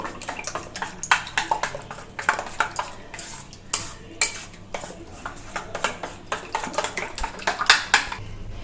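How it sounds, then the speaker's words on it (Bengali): Egg and semolina are mixed by hand in a bowl, with a spoon clinking and scraping against the sides in quick, irregular strokes, close and fairly loud with no voices. "সুজিটার সঙ্গে আমি ডিমটা খুব ভালো করে মিশিয়ে নেব।"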